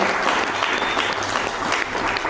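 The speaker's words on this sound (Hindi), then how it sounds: "एक जोरदार तालियां बताइए" Loud, dense applause from a room of trainees at a training session, a continuous roar of many hands clapping close by for a couple of seconds.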